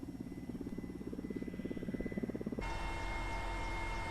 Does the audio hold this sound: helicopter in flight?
yes